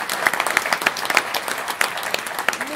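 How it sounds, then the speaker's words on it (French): A theatre audience at an amateur village play applauds the technical crew with lively, closely packed clapping and sharp individual claps standing out in the mix. "nos techniciens adorés qu'on peut applaudir"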